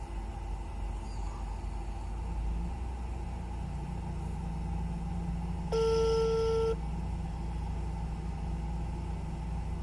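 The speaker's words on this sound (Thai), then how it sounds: "เดี๋ยวผมจะลองโทรไปเบอร์แอดมินตัวนี้นะครับ" A phone call to the admin number of a GDD010 cigarette-lighter GPS car tracker produces one steady ring tone lasting about a second, moderately loud, over the constant low rumble of a vehicle interior.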